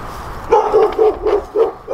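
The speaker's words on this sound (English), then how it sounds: "big old dog right there." A big dog barks in a steady series of six deep woofs, close and fairly loud, at a yard set for lawn care and cleanup.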